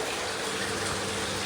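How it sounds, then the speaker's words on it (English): Water surface churned in a large pond kept for big animals, broken up to add oxygen; a steady, close, continuous rushing and gushing wash of water with no voices. "that's agitating the surface, because breaking the surface is how I'm going to get all the oxygen in this pond"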